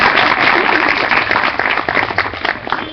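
Live audience applauding at a Hindi singing session, steady dense clapping filling the whole stretch, fairly loud and close, with a few voices mixed in.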